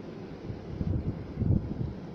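Strong wind from Storm Ana roars and buffets the microphone in low, rumbling gusts that swell twice before easing, with no voices, in Génos, France.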